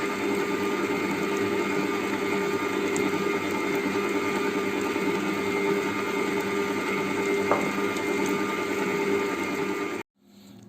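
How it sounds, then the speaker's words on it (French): A food processor whirs steadily while blending a brandade of salt cod, a loud continuous mechanical hum with a faint click near the end before it cuts out abruptly. "J'augmente progressivement la vitesse de mon robot et je viens y mettre le persil."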